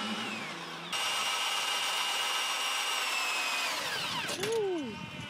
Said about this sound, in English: periodically you'll hear a drill sound. It's not construction. It's your food coming.